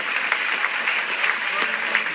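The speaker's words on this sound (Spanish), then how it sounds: "Dele un aplauso al Rey en esta preciosa mañana." A church congregation claps during a Spanish-language sermon, a steady wash of applause held at even loudness for a couple of seconds with a few sharper individual claps.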